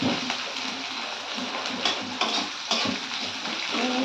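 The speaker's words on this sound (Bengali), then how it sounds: "আমি পেঁয়াজটা একটু ভালোভাবে ভেজে নেব লাল লাল করে।" Chopped onions and black cumin sizzle and crackle steadily in hot oil in a pan while being fried for a Bengali doi ilish (hilsa in yogurt) dish, with occasional stirring clatter and no speech.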